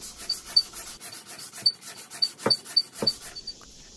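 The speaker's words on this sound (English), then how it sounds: "one of the few times I actually use sandpaper regularly is on the lathe. It's just so much easier when the work is spinning." Sandpaper rubbed against a wooden workpiece spinning on a lathe, with quiet rhythmic scratchy strokes and a few short sharp rasps, close and fairly soft under a faint high whine.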